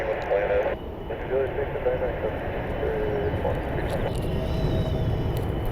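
Airbus A320neo jet airliner on landing approach in Cleveland, a steady broadband engine roar heard from a distance through gusty wind, with faint radio chatter woven underneath.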